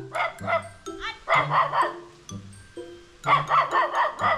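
A dog barks repeatedly in short, close bursts at a house in the Philippines, with people talking in Filipino in between and a brief whimpering tone.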